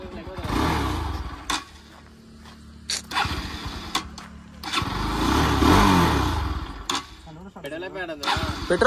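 Motorcycle engine cranking in short bursts that catch and die, then revving roughly for a few seconds before sputtering again, up close with people talking over it; the bike may be low on petrol.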